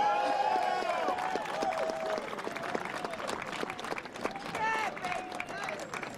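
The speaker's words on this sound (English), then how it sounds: "Please give a tremendous round of applause" A crowd applauds a speaker being introduced at a Pennsylvania legislation event, a dense steady patter of clapping mixed with voices and scattered cheers.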